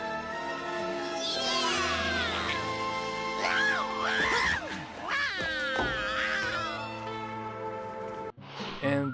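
Cats yowling and caterwauling in the video game Deadly Premonition Origins, a loud, continuous run of wavering, rising and falling cries layered with music, ending in a brief abrupt cut.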